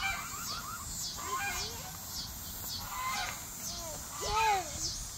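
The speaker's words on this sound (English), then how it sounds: "And a goose, look." Several honks from a goose penned with chickens at a plant nursery come in a rapid irregular series, near and fairly loud, with people talking softly underneath.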